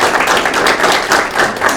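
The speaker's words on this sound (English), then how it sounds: "So please give yourselves a round of applause for supporting our outstanding students." Audience at a school superintendent's outstanding student of the month presentation breaks into applause, a brief, loud, close burst of many hands clapping together.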